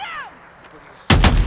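Gunfire bursts out in the Days Gone video game, loud and dense for the final moments after a quiet stretch with a brief rising electronic whistle at the start.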